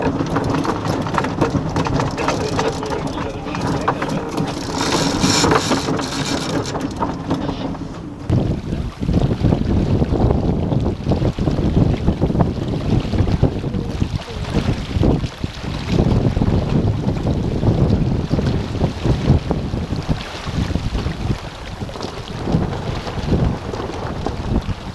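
A sailboat comes through the wind onto a new tack, with steady wind and water rush throughout and a louder surge of flapping, rattling noise partway through as the boat turns, all without voices.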